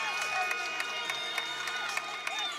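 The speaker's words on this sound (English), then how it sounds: "We have lots of cheering." A crowd cheers at a college gymnastics meet, broad noisy cheering with scattered sharp shouts and claps, while a nearby voice talks over it.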